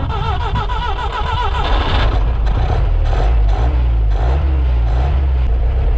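A Willys CJ-3B Jeep engine with gas poured into the carburetor turns over and catches. Close and loud, it cranks in a fast rhythm, then settles into a rough, low, rumbling idle with uneven pulses.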